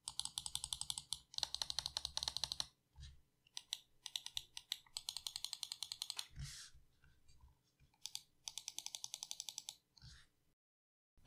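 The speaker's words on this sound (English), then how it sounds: "here's a quick sound test of the clicks on the mouse" Rapid bursts of crisp clicks from a Gamesense MVP Wireless mouse, close and loud, in several quick runs separated by short pauses, with no talking.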